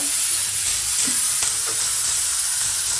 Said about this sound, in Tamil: வெங்காயம், மிளகா, கருவேப்பிலை இது போட்டு நல்லா வதக்கி விட்டுருங்க.